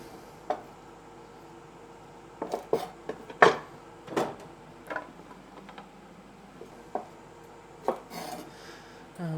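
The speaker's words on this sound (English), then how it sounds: "And that's all the chopping done" Sparse knife chops through green beans on a cutting board, single sharp knocks at irregular intervals with quiet gaps between, close by and no talking.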